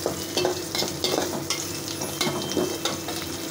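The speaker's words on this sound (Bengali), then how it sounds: "এদিকে আমি পেঁয়াজটা বসে দিচ্ছি" Onions frying in a hot pan on a stove, a steady sizzle with repeated scraping strokes of a spoon stirring them, close and clear with no voices.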